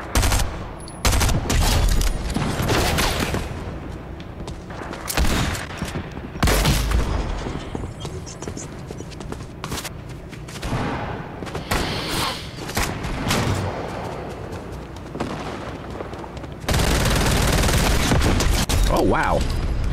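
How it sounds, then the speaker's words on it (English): Rapid bursts of gunfire and booming shots in the video game Fortnite, a player firing wildly; loud, dense volleys with heavy thumps, recurring throughout with brief pauses, some talk mixed in. "He was just firing wildly, I guess."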